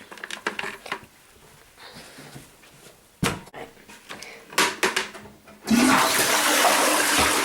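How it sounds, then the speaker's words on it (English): A household toilet is flushed after a few seconds of quiet, scattered handling noises indoors, ending in a loud, close rush of water that fills the last stretch. "I always flush the loo just beforehand because I find it makes it easier now."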